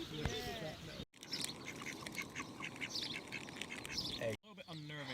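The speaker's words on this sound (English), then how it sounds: "There's some little chicks in the bushes." Small birds chirp and call from bushes on a farm at a campsite, with quacking-like squawks mixed in and a person talking over the calls.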